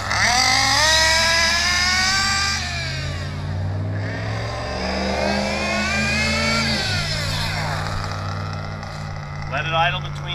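Nitro model engine held at about half throttle during a tank-by-tank break-in, a loud continuous high buzzing whine with wavering pitch that dips and rises, close up and steady throughout.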